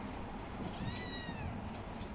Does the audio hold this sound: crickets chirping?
no